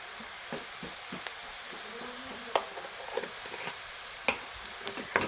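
Spices sizzling softly in a pan over a low gas flame while coriander powder goes in, a steady quiet fry broken by a few sharp clicks of a spoon against the pan.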